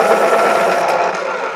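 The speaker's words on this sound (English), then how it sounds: "Sharpen the pencil. Here's the sound we all don't like." A steady mechanical grinding whir of a pencil sharpener at work, close and continuous for about a second and a half, then easing slightly.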